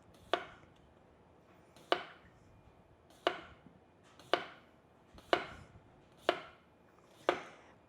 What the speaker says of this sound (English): So we'll get these sliced up.